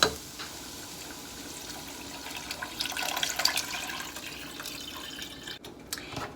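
Beef broth streams into a soup pot for split pea ham soup, a steady close liquid pour with light splashing that swells midway and tapers off near the end, no talking.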